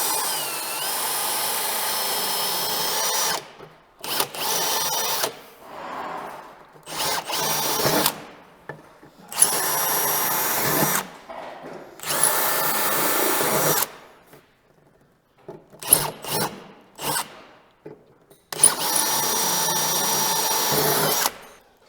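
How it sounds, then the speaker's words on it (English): A power drill with a 1/4 inch bit bores bolt holes through a bash plate in a series of loud, close whining bursts, each lasting a second or two, separated by short silent pauses. "then we can line up and we can drill these 4 holes"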